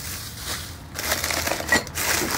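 Paper being crumpled and handled while sorting through picked-up trash, a close, dry crackling that runs in bursts across the clip with brief louder crinkles, no talk.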